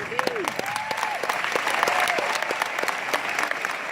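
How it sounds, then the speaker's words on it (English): Audience applause at a leaders' retreat, a dense, steady wash of clapping throughout with a few voices and whistle-like calls rising over it. "This applause is for you guys"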